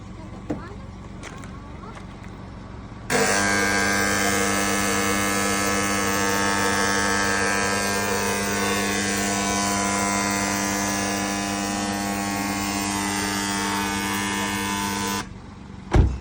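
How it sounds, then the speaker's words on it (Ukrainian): A dry fog machine treating a car interior during detailing runs as a loud, steady mechanical hum with strong tonal harmonics. It starts abruptly and drones continuously for about twelve seconds before stopping, with quiet surroundings on either side. "Невеликої паузи продовжуємо обробляти сухим туманом автомобіль."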